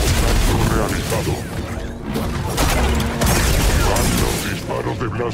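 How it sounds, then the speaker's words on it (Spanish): Blaster bolts being deflected during combat in the Star Wars Jedi: Survivor video game, a dense, loud burst of crashes, whacks and booms over music and sustained battle noise. "Disparos de blaster que devuelve"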